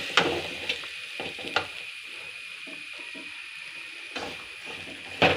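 Semolina (rava) dry-roasts in a pan with sautéed onions and carrots for a quick breakfast dish, giving a soft continuous sizzle broken by a few sharp scrapes and clinks of stirring.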